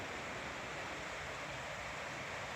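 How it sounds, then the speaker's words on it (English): Water gushing outside a balcony of a countryside suite in Shiroishi, Miyagi, a steady, soft, unbroken rush heard from a distance, with no bird calls standing out. "Sound of birds chirping and gushing water."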